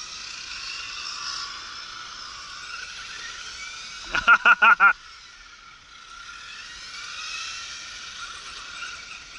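An HPI E10 Nissan S13 radio-controlled car drives with a thin, high electric whine that rises and falls, broken midway by a quick burst of several sharp rattling clicks, the whine then fading and returning.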